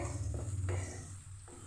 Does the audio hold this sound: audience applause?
no